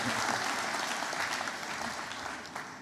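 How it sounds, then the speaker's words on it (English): Dense applause from a graduation audience at RMIT Vietnam's Hanoi campus, a continuous wash of many hands clapping at once, loud and even throughout before easing slightly at the end. "Let's give that a round of applause."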